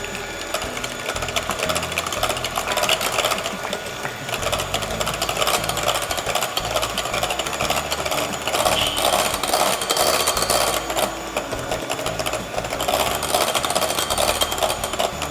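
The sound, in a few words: electric mixer beating whipping cream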